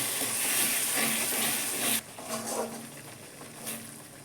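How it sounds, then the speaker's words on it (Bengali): Tomato and onion paste sizzles in hot oil, a steady bright frying hiss that suddenly drops to a softer crackle and bubbling partway through. "তেল কীরকম ছেড়ে বেরিয়ে আসছে তো আমি টমেটো আর পেঁয়াজের পেস্টটা দিয়ে দিলাম এটা একটু কষে নেবো"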